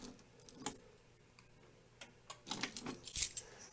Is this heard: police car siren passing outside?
no